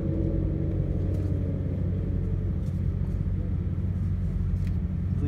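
The deep, steady rumble of a Dodge Hellcat engine at a drag strip fills the air, loud and continuous with no pauses.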